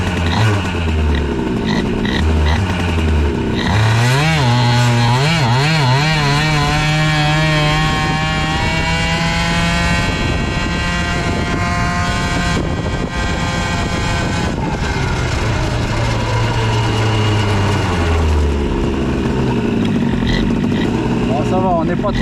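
Airsal CPI 70 scooter engine revving hard at full speed, a loud buzzing two-stroke wail rising and falling in pitch as it pulls through gears, close and continuous with a voice talking briefly over it.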